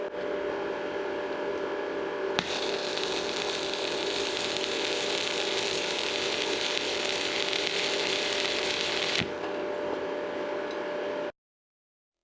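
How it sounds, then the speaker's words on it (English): A stick welder runs a bead with an expensive electrode, making a steady, dense, loud crackling hiss. It starts abruptly a couple of seconds in and stops cleanly near the end, over a constant low hum. "Now I'm going to use the expensive electrode and weld the other half."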